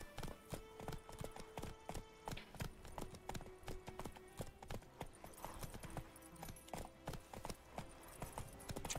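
A horse gallops in the video game The Witcher 3, rapid rhythmic hoofbeats thudding steadily and close throughout, with game sounds layered beneath.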